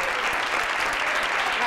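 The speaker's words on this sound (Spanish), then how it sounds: "Un fuerte aplauso para Puri." Studio audience applause on a Spanish television comedy sketch show: a dense, loud, steady wash of many hands clapping together, close and unbroken through the short clip.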